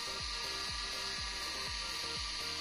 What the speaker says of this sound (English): Motor has successfully turned on, as you can see.